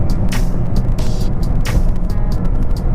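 A Toyota Corolla's engine runs in sport mode as the gearbox downshifts: a steady, loud broadband drone heard from inside the car, with a few brief surges and clicks along the way.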